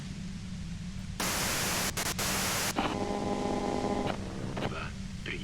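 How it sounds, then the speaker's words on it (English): Hissing radio static in the video game Disco Elysium, a low rumbling hiss that suddenly jumps to a loud burst of white noise for a second and a half, then drops back to a rumble with faint tonal warbles. "you can do it through the white noise"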